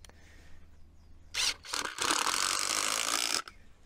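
A screwdriver drives a 7.5 mm screw through wood into a drilled masonry hole, giving a brief whirr and then about a second and a half of steady loud grinding that stops abruptly, close to the microphone with no talking.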